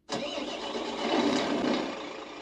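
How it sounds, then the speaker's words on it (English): An RC sound system simulates a Scania truck engine starting: a sharp crank catches at once and settles into a loud, steady diesel idle close by. "So that should be the Scania sound now."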